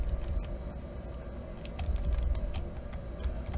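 A computer keyboard being typed on, quick irregular clicks and taps over a low background hum, close but fairly quiet, with no one speaking.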